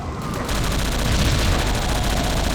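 Rapid turret gunfire in the shooter game World War Zero (Iron Storm), a dense, loud, continuous stream of shots holding steady for the whole stretch.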